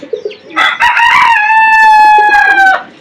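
A rooster crows once, close and loud: a long, drawn-out call with no other sound around it.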